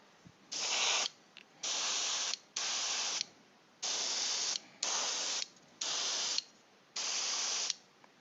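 Seven short bursts of chrome spray paint hiss from an aerosol can onto a Star Wars clone trooper model, each lasting about a second with clean pauses between, close and loud.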